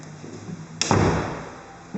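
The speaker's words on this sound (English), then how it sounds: "So that's your first room there with the bay window and this door that closes." An apartment door in a room with a bay window swings shut with one sharp, fairly loud thud partway through, its ring fading over the next second against a quiet room.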